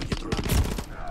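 A rapid burst of gunfire in the video game Modern Warfare III, several quick loud shots over about a second, with someone talking.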